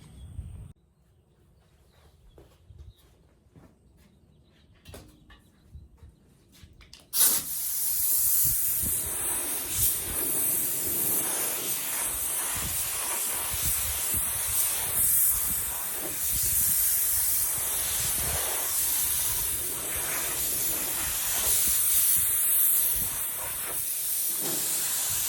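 Primer spray-painted onto an arcade coin door from a Williams Ten Pins machine, a steady close hiss starting abruptly after a quiet stretch and continuing unbroken, with slight fluctuations as the nozzle moves.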